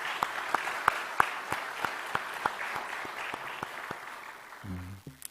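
A church congregation at a Sunday service in Gwangju claps together in an even, steady rhythm, the sharp claps close and distinct, before the applause breaks off and a brief murmur of voices follows.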